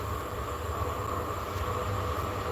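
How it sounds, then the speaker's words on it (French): A TER regional train rolls into a station near Bordeaux, giving a steady, dense rumble and rail noise with a faint high whine. The sound is continuous and fairly close, with no talk. "il y a donc un TER aussi"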